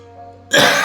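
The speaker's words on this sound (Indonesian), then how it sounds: "batuk" A single abrupt cough or throat-clearing burst breaks sharply out of a quiet, faintly humming background and lasts a fraction of a second.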